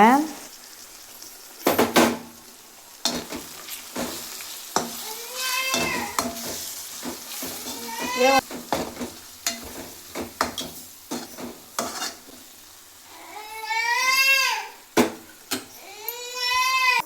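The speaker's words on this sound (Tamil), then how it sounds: "சேர்த்துட்டு நல்லா நல்லா கிளறி விட்டுக்கோங்க" Spice masala with onion and tomato being stirred in a pan for a dried squid curry: scraping spoon strokes and a soft sizzle in bursts, up close, with a person talking in between.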